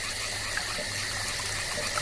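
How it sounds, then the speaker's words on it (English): Water sprays steadily in a video game, a continuous loud gushing hiss with an underlying low hum and no talk. "Who dares spray this smelly water in my face?"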